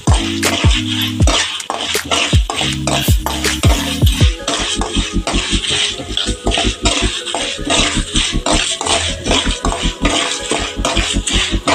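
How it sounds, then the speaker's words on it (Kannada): Cumin seeds are stirred and fried in a pan, a spoon scraping and clanking rhythmically against the metal over a steady sizzle, with loud repeated strokes close by. "ಇದೆಲ್ಲ ಮಿಕ್ಸ್ ಮಾಡ್ತೀವಿ. ಈ ಥರ ಚೆನ್ನಾಗಿ ಫ್ರೈ ಮಾಡ್ಕೋಬೇಕು."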